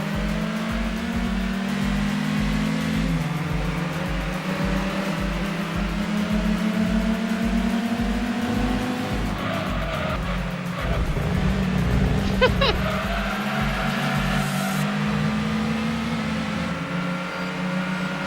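A car engine in the Gran Turismo 2 racing game on PS1 drones steadily, its pitch rising and shifting through gear changes, with a rhythmic low pulsing underneath, continuous and fairly loud under faint talk.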